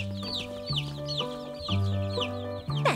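Cartoon hen and little chicks clucking, with deeper rhythmic hen clucks under a steady run of high, rapid chick peeps, close and clear with no talk.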